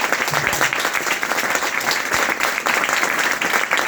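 Sustained applause from an audience, a dense steady clatter of many hands clapping throughout, fairly loud and close, with no talking over it.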